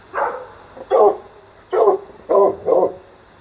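A dog barks and yelps in a series of five separate bursts, fairly close and moderately loud, with quiet gaps between them.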